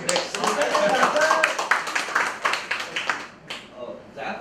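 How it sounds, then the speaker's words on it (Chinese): Scattered audience clapping at a Chinese-language talk, uneven and somewhat sparse, with claps thinning out toward the end. "好，给点掌声。"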